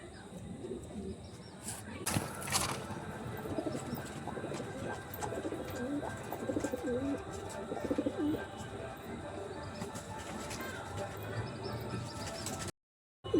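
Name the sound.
pigeons cooing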